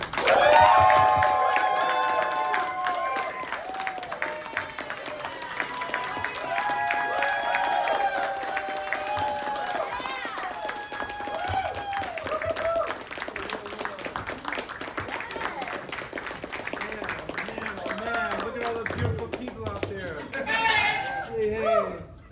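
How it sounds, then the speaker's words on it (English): An audience at a Predator film panel at the Days of the Dead Chicago convention claps and cheers, filling the room with sustained applause, shouts and excited voices that trail off near the end. "So much noise, so much applause."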